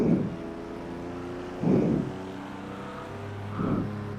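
A classic Ford Mustang race car engine roars past in three loud, swelling bursts with a lower droning engine tone between them, in the setting of a race where IndyCars are also running.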